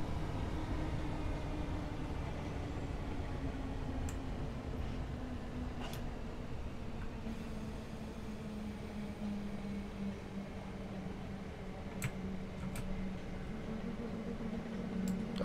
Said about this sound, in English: You can hear the nice, oh, the brakes, and it just sounds like the actual train.